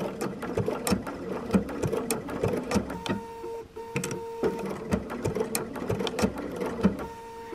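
A sewing machine stitches raw-edge penguin applique in fast, even bursts of mechanical chatter, pausing briefly and starting again, close and clear with no voices.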